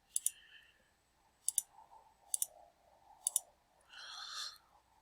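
A computer mouse clicking, four quick close double clicks spaced about a second apart in a quiet room, followed by a brief soft rustle.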